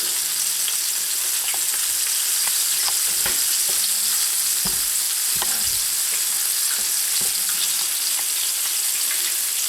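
Whole catfish fries in hot oil over medium heat, producing a continuous bright sizzle with scattered sharp pops and crackles throughout, steady and close, with no voices.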